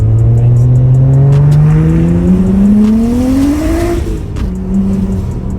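A 700hp single-turbo BMW N54 car accelerating hard, its engine tone climbing steadily in a loud, sustained roar before a brief dip and a settled high drone, up close with no voices.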